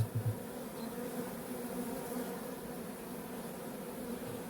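Honeybees at a hive in an isolated forest apiary give off a steady, close, continuous buzzing drone with no voices over it.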